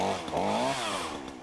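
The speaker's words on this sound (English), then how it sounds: "Fortunate I took off and got to Lowe's and was able to get a chainsaw." A chainsaw bought from Lowe's runs during hurricane cleanup, its engine whining steadily and shifting pitch as it revs. The saw sounds close and sustained, with no talk over it.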